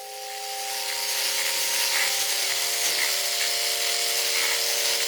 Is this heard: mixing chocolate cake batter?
yes